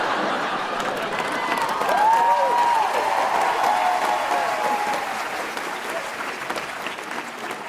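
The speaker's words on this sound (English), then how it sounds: "Thank you for clapping." Comedy club audience at a stand-up show breaks into sustained, loud applause that swells briefly, with some whoops and a few voices riding over the dense clapping, then slowly tapers.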